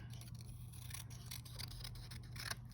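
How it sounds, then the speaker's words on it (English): Scissors snipping paper while cutting out a symmetrical 2D mask, a few quiet close cuts over a low steady hum, no one speaking. "I'm going to cut off some of that extra"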